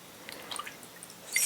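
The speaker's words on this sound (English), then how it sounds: "letting the water drip out from the bottom" Water dripping from wet paper pulp on a papermaking screen, a few soft, scattered drips heard close and quiet in an otherwise still room.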